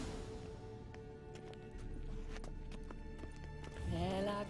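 Rhythmic clip-clop of horse hooves trotting along in the video game The Witcher 3, fairly faint, with a musical drone underneath and a brief whinny near the end.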